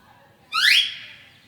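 A single short, rising whistle-like glide played on string instruments, bright and quick, fading out after under a second against quiet background.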